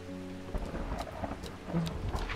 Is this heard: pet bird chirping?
no